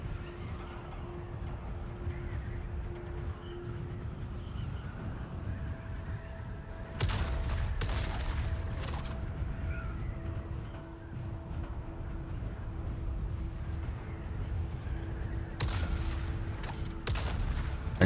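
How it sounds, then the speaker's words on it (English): Bursts of gunfire from the Dune Awakening deep desert, coming in two clusters of rapid shots partway through over a steady low engine-like rumble and a faint tonal hum, with no talk. "Somebody shooting at me."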